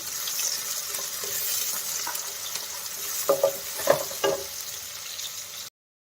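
Onion and green chili frying in a pan for a cabbage and pea curry, a steady sizzle with a few scraping stirs of the spatula partway through, close and alone.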